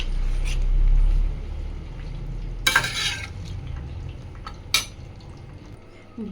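Raw mango pieces frying in oil in a pan over low heat: a soft, low sizzle with a couple of sharp clanks of a utensil against the pan, close and otherwise quiet.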